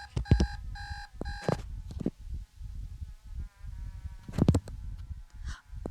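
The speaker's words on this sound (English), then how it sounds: "6:43, which is an odd time for an alarm to go off." An alarm clock goes off in the video game Eternal Suburbia, with repeated short beeping bursts at an irregular rhythm and low thumping sounds in between, near and fairly loud, with no talk.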